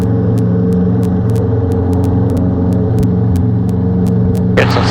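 A small aircraft engine throttles up for takeoff, a loud steady droning rumble with a constant pitch and sharp periodic ticks over it, continuing without a break.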